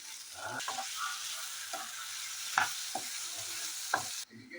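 Potato pieces frying in masala in a pan, a continuous soft sizzle broken by several scraping strokes of a stirring spoon, close and moderately quiet with no talking.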